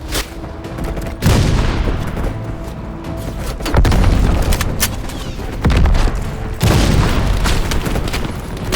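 Anti-aircraft gun bursts and RPG explosions rumble through a Call of Duty Black Ops Cold War campaign battle, with repeated loud booms every couple of seconds over continuous crackling gunfire, close and dense.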